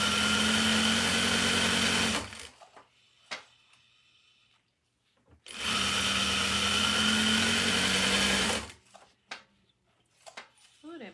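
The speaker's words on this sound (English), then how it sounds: "Ooh, that bobbin be winded fast" A sewing machine winds a bobbin at high speed, giving two loud, steady bursts of motor whir a few seconds each, separated by a quiet pause, with small clicks and handling noises between.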